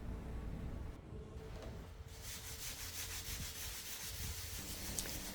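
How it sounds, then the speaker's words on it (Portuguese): Steady hand sanding of ivory-colored wood filler on a wooden chessboard, a continuous close rubbing rasp that shifts in pitch partway through, with no talking. "Nesse lixamento eu comecei com a lixa 100 e fui até a 600."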